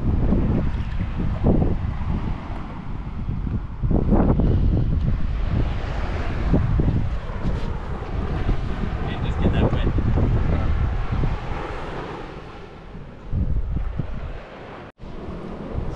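Strong wind buffets a microphone on a beach, with a steady loud roar and gusty rumbles, waves faintly beneath, and a voice talking through part of it.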